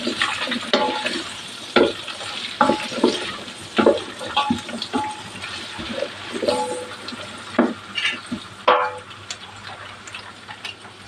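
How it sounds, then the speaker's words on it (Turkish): Peppers sauté in a pan while a utensil stirs and scrapes them, irregular clattering strokes over a soft sizzle, close and fairly loud, no talking. "Önce biberimi ilave ediyorum. Şöyle bir kavrulsun."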